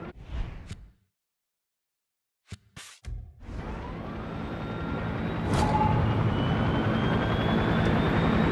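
Aircraft engine in the Far Cry 6 video game, starting after a few brief clicks and then rising into a steady, loud roaring drone that builds and holds to the end.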